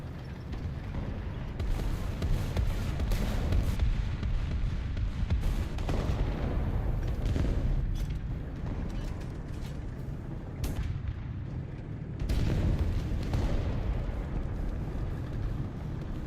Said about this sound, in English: I can't shoot down the walls with this machine gun.